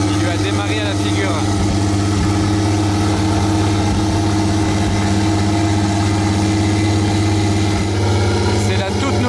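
A Mansory-modified Porsche 992 Turbo S idles steadily with a deep, even rumble after starting up at the Top Marques Monaco show, with crowd chatter and talking over it.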